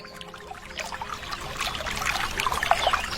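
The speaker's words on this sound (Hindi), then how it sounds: "गोरी के पूरे घर में पानी जमा हो गया और घर के दरवाजे से पानी बाहर बहने लगा" Cartoon sound effect of water gushing out through a house door, a rushing, trickling flow that swells louder over a few seconds, heard alone.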